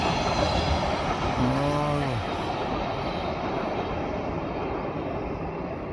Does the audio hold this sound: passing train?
yes